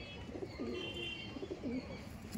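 Tournament pigeons cooing in repeated soft, throaty rolls at close range while the birds are handled and shown for sale, with a faint background hum.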